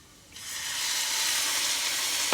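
Water poured onto browned onions and garlic in a hot pan for homemade tomato soup bursts into a loud, steady steaming sizzle that swells after a quiet start and holds close and bright without talk.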